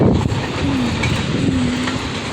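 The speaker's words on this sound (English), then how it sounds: "Here's the end of the train." A Union Pacific stack train led by locomotive 8233 rolls past in Sacramento, California, a steady rumbling wash of wheels and cars with wind noise, fairly close and continuous with no voices.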